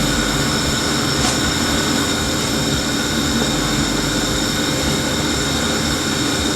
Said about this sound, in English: We're frying our twisted donut.